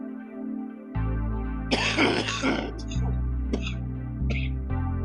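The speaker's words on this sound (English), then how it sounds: "give me a minute, I'm coughing" A broadband burst of coughing, a harsh rough bout of a couple of seconds followed by a few shorter hacks, close to the mic over a low steady hum.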